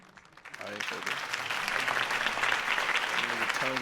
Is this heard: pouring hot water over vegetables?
no